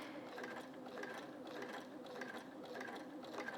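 A domestic sewing machine stitching a quilt, fast even rhythmic needle pulses in short repeating runs, close and fairly quiet.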